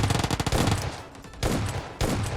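Rapid automatic gunfire from PUBG Mobile, a close, loud burst of quick rhythmic shots followed by two shorter bursts after brief pauses.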